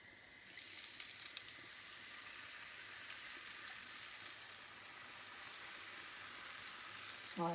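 Crêpes frying in a buttered pan at breakfast, a soft, steady sizzle held at an even level from start to finish, with a few faint clinks near the beginning.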